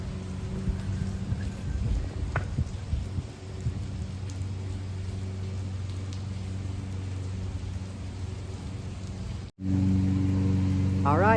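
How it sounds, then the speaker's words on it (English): Steady rain falls on a hiking trail in gusty weather, a broad constant hiss with scattered drops close by, briefly cutting out near the end before resuming slightly louder. "All right, it's raining"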